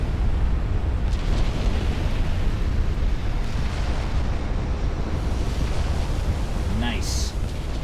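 A warship's flash fire explosion in the naval game Ultimate Admiral Dreadnoughts, heard as a loud, sustained roaring blast that fills the whole stretch, with a brief higher burst near the end.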